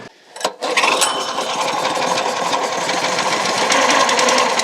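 A gas-powered Tractor Supply wood splitter engine rescued from the landfill starts with a short sputter, then runs at a loud, steady drone close by.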